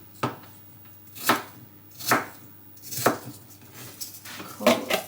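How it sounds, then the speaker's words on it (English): A knife chops apples on a board during autumn baking at home, giving about five sharp, separate thuds spaced roughly a second apart. It sounds close and clear, with no voices. "I'm gonna finish chopping these apples."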